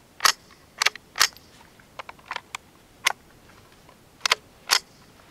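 About a dozen quiet, sharp cracks from a .22 LR rifle firing CCI Quiet subsonic ammunition, each sounding muffled as if suppressed, spaced irregularly over a few seconds, some in quick pairs, against a faint background.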